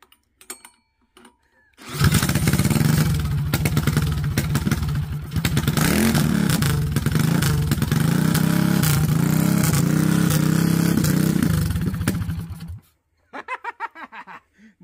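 A Predator 224 small engine with no load starts and revs high, buzzing loudly and steadily for about ten seconds before cutting off abruptly.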